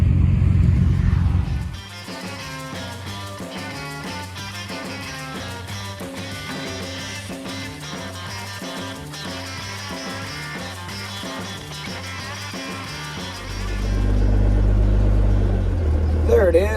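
A car on the road gives a loud, low interior rumble at the start and end, with music playing over the long middle stretch that mostly covers the engine.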